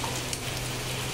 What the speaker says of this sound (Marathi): गोव्यामध्ये इतका पाऊस पडतो, इतका पाऊस पडत आहे